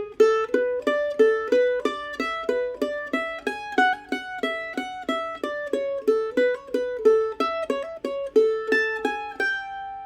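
A solo mandolin plays the last line of the Huckleberry Hornpipe A-section solo, a quick run of bright, crisply picked single notes in a steady lively rhythm, close and clear with no talk.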